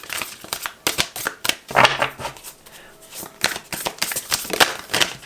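Oversized tarot cards being shuffled by hand, a series of sharp riffling bursts and papery slaps in irregular clusters, close and fairly loud.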